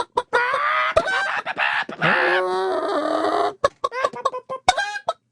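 A man imitates a clucking hen with a burst of loud, choppy clucks and squawks close to the mic, stopping and starting in short bursts.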